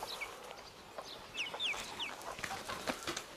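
Broiler chicks kept in a garage, a few high, thin peeping calls scattered over quiet background, moderately near and fairly faint.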